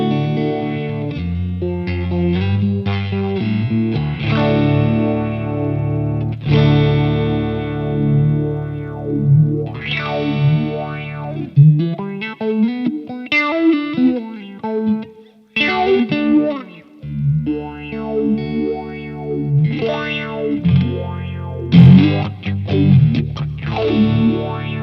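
A HomeBrew Electronics Psilocybe phaser pedal with its regen control turned up, sweeping through a distorted guitar signal; swirling, resonant chords and notes ring out loud and continuous, with no talking.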